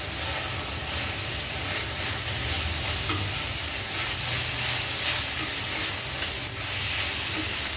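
Noodles tossed in a pan with soy sauce and vinegar for homemade Hakka noodles, a loud continuous sizzle and hiss with rhythmic stirring scrapes, no voices.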